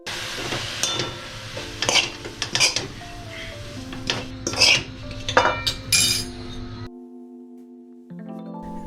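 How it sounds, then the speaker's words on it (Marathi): A spoon scrapes and stirs a sambar masala spice mixture in a pan, the clinks and scrapes coming in irregular bursts over a low steady hum. The activity stops near the end, leaving quiet background tones. "मिश्रणाला छान हलवून घेतोय"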